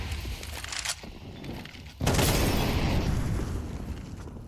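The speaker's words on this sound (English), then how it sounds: "Nades exchanged." Grenade explosions during a Counter-Strike match on the Ancient map, a dense sustained rumbling blast with a sharp louder burst midway, heavy low-end boom filling the whole stretch.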